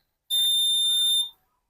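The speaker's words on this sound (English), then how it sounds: "switch on the buzzer just like this." An electronic buzzer switched on by an obstacle sensor gives one steady, piercing tone lasting about a second, then cuts off into silence.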